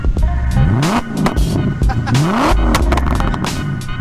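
A 4.2-liter Audi S4 V8 swapped into a Dodge Grand Caravan rumbles and burbles up close, loud repeated rev swells rising in pitch with throaty crackling between them.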